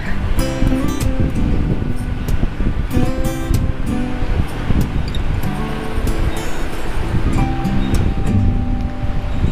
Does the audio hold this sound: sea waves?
yes